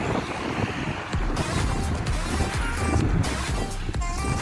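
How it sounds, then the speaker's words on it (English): Windy day in Hurghada, with gusts buffeting the microphone in a steady broadband roar and thumping low bursts, fairly loud throughout the short stretch. "it's a bit windy"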